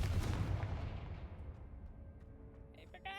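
A Confringo fire spell in Hogwarts Legacy goes off as a fiery blast, a heavy boom that rolls away and fades over a couple of seconds, followed by a faint chime.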